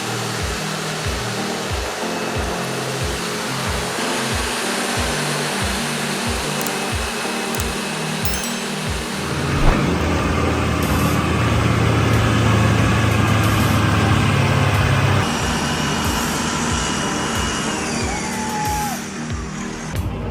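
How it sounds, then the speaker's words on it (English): A heavy equipment truck hauling oversized cargo climbs a bridge, its engine a loud, steady roar with a deeper, heavier drone surging in partway through and holding, all close and continuous. "The heavy equipment truck roars"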